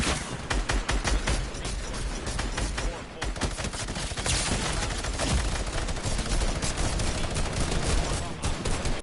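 Dense bursts of rapid gunfire and explosive blasts fill a Fortnite battle, including a shadow bomb going off, a loud continuous barrage of overlapping shots with no pauses.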